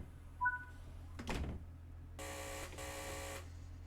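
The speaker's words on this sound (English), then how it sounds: "Close both sides again." Class 142 Pacer train doors in a train simulator game: a warning chirp, a sliding thud as the doors move, then a steady mechanical buzzing hum that briefly breaks before stopping.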